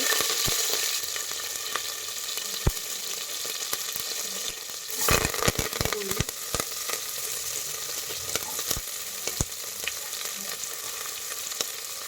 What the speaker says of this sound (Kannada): ಈಗ ನಾನು ಎಣ್ಣೆ ಹಾಕ್ತಾ ಇದ್ದೇನೆ ಸಾಸಿವೆ ಜೀರಿಗೆ